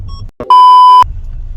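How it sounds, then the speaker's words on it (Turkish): A single steady electronic seatbelt warning beep in a 2.0 dCi 175 hp Renault Latitude, loud and sustained for about half a second, over a low idling engine rumble. "Kemerimiz de ötüyor bu arada."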